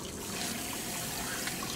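Water spraying through a cleaned APR cold air intake filter for a 2016 Golf R, sent from a spray pad so it barely passes through the red filter media; a steady, close, continuous hiss with no talk.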